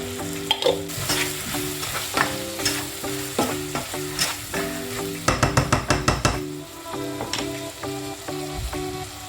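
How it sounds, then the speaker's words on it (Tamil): Horse gram (kollu) roasting in a dry pan, a continuous sizzle and rustle broken by repeated stirring scrapes and a quick burst of rattling clicks midway, close and fairly loud with no speech. "இந்த சைடு வந்துட்டு கொள்ளு வறுப்பட்டுருக்கு."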